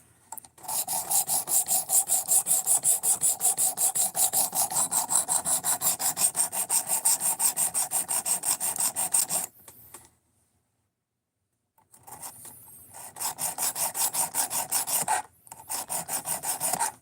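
Both sides of a knife blade are ground on a sharpening stone, giving long runs of fast, even, rasping back-and-forth strokes, a pause of a couple of seconds, then two more bursts of strokes.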